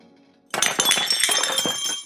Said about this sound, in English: The silence in the room was shattered by the sound of pottery bouncing off the studio floor.